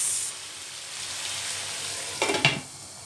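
Green chili sizzles in a pan of hot oil while cooking coconut-milk sweet potato tops, a steady close frying hiss with a brief clatter of stirring near the end.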